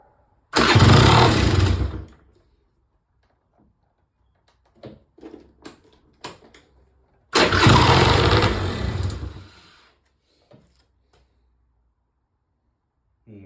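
A Peugeot Speedfight 2 100cc scooter with a suspected fuelling fault cranks and catches in two loud, close bursts of a couple of seconds each, with quiet clicks and small rattles in the pause between them.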